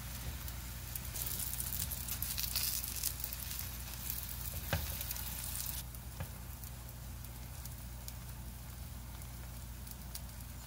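Tortilla batter sizzling and frying in a pan, a steady soft crackle with a louder stretch early on before settling into a quieter, even sizzle.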